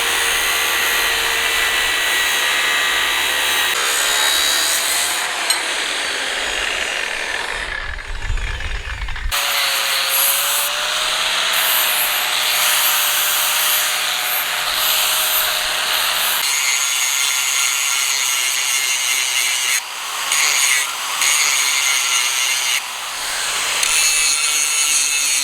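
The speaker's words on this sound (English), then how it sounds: "I've got to grind this end to prep for welding" An angle grinder grinds the ends of metal bars outdoors while a custom bar footrest is built, producing a loud, continuous close screech and rasp with shifting pitch as pressure changes, and a brief lull partway through.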